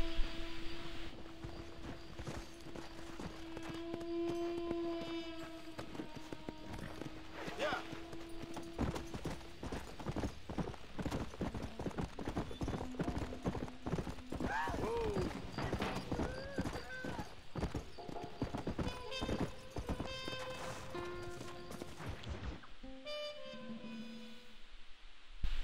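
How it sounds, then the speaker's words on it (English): Horse hooves clip-clop steadily along a trail in the Red Dead Redemption video game, a quiet, continuous rhythm under game music and ambience, with no talk during the stretch. "Come on, horse."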